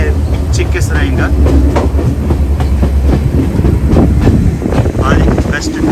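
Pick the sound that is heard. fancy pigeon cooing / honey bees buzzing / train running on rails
train running on rails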